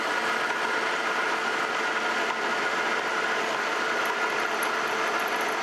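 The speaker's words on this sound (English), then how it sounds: "that does appear to be drilling much, much better" A drill bores steadily into hard forged steel, a constant dense grinding whir throughout with no breaks or talking.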